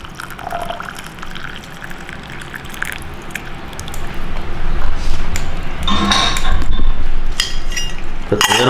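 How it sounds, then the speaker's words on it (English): Hot water poured over coffee grounds in a brewer for an iced coffee drink: a close, steady pour and trickle with light clinks of cutlery and dishes that grows louder toward the end. "Now we pour some more water in there."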